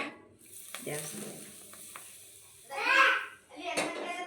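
Hot oil poured into Maddur vada dough crackles in short sizzling bursts, loudest near the end, with faint voices and hand movement around it.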